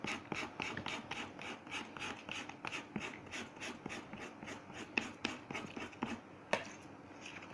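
A scale rubbed back and forth over paper to transfer a pattern drawing, a steady run of quiet, close scraping strokes with an occasional sharper tap.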